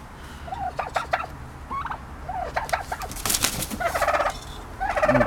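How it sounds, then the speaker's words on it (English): Turkey hens gobble in repeated bursts, several rattling calls close by with short pauses between them, growing busier toward the end as a male turkey arrives. "We're not happy turkeys, are we?"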